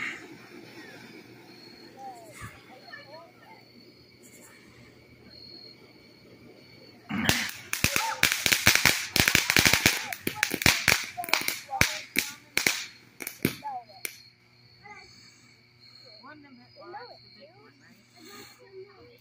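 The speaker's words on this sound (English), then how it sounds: "The fireworks gonna start." At a birthday party, a burst of firecracker-style fireworks snaps and crackles in a rapid, irregular volley of sharp pops lasting several seconds. Quieter background voices come before and after it.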